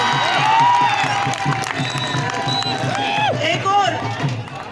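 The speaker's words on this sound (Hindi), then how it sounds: "इसलिए एक बार जोरदार तालियां राजेश पाठक।" Crowd applause and cheering at a kabaddi match between Sagar and Indore, heard under an announcer's loud ongoing commentary, with shouts and claps rising and falling in the busy outdoor scene.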